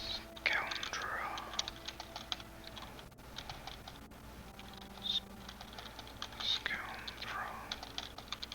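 Soft, rapid typing on a computer keyboard in an ASMR setting, with quiet clicky keystrokes in irregular bursts under a whispering voice.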